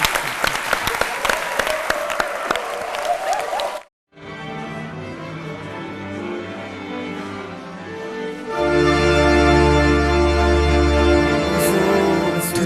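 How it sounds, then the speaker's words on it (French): A studio audience on a French lunchtime television talk show breaks into sustained applause that cuts off sharply, then resumes louder and fuller, settling into a broad, steady wash of clapping under a musical bed. "sous vos applaudissements"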